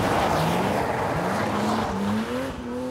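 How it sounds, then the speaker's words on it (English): A 321-horsepower BMW M Coupe slides tail-out on a wet road on Michelin tyres, its engine note rising and falling loudly while a steady tyre squeal sweeps upward through the slide. "The surface area of rubber on those tyres, combined with 321 brake horsepower, can lead to some rather tail-happy slides"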